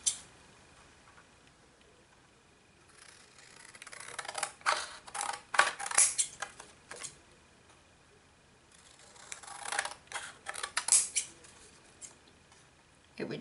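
Scissors snipping through a paper card template for a flower pot easel card, a run of small close crisp cuts in two bursts separated by a quiet pause, with no talking.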